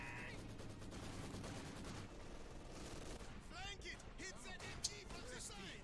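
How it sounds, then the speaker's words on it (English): Short rapid bursts of MG42 machine-gun fire crackle in a Company of Heroes match, mixed with other battle gunfire and played quietly beneath a commentator talking. "The MG42, and that burst is going to pin the conscripts."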